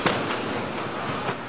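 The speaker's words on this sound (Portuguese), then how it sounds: "Novas explosões." Fuel-fed fire at a burning TAM airline cargo depot after a plane crash produces a dense, loud roar of crackling blasts with a sharp burst at the start and further bursts within the rumble.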